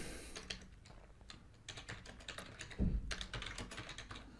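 Rapid, uneven clicking of keys on a computer keyboard, close and fairly quiet, in bursts with brief pauses between.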